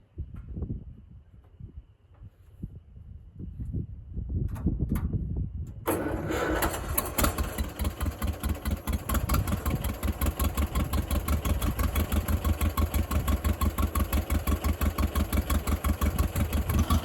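A piece of equipment's engine cranks with a few sharp pulls, then catches at about six seconds and settles into a loud, steady, rapidly pulsing idle that runs close and uninterrupted to the end.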